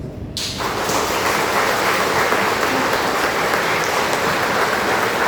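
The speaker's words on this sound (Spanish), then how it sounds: "Regálale un fuerte aplauso." Loud, sustained applause from a crowd, dense steady clapping that starts abruptly and continues without pause.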